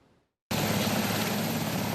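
Marine One, the US presidential helicopter, roars in abruptly after a brief silence, a loud, steady, close rotor and engine drone that continues unbroken.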